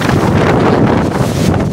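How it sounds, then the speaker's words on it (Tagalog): Strong typhoon wind buffets the microphone in loud, rumbling gusts, with a rushing roar that never lets up. "Ay, lumalakas pa rin ang hangin."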